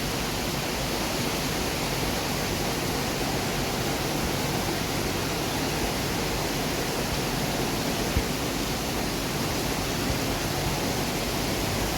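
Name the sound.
heavy rain pouring in Singapore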